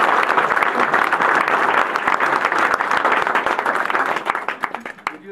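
An audience at a diocesan house inauguration applauds in a dense, steady burst of clapping that thins out into scattered claps near the end.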